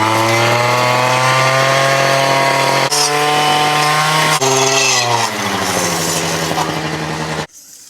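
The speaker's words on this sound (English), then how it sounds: "I'm gonna go ahead and get the brush trimmer out and just kind of clean up our area" Gas-powered brush trimmer clearing vegetation to make room for fence work, a loud, close, sustained two-stroke engine drone that shifts pitch several times under load before cutting off abruptly at the end.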